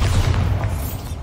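Bombarda blasting spell in the wizarding game Hogwarts Legacy, a deep booming explosion with heavy low rumble that holds steady and slowly fades over about a second, with no voices.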